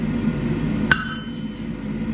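A single sharp hammer strike rings out on a small forged metal oak leaf being worked on a repoussé stake, a bright metallic clang with a brief ringing tail against a low workshop hum.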